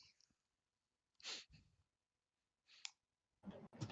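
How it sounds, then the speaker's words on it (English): A quiet background broken by a few short, sharp bursts of noise, the loudest around the middle, ending in a cluster of louder sneeze-like bursts close by. "It sounded like a sneeze"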